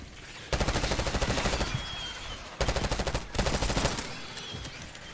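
Automatic gunfire in a Call of Duty zombies match at Liberty Falls, two long rattling bursts of rapid, loud shots with a short pause between them, followed by a third shorter burst.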